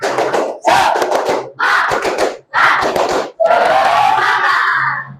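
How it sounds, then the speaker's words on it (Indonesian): A classroom of students performs the tepuk semangat clap chant together, loud and close: four short, evenly spaced group bursts followed by a longer final shout. "Tepuk semangat."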